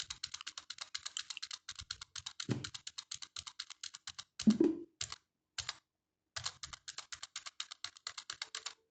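Rapid keystrokes on a computer keyboard while entering company details in Tally Prime, fast bursts broken by brief pauses and a few heavier Enter presses, close and clear with no talk.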